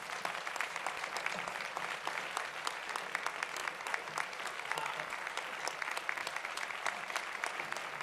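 Audience applause at an awards and honours ceremony in Valdepeñas, steady dense clapping from a large crowd filling the whole stretch, with no talk over it.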